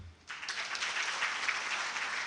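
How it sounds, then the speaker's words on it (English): An audience at a Chinese Government Scholarships anniversary celebration breaks into applause after a quiet start, steady moderate clapping filling the rest of the moment. "And let's give them a clap."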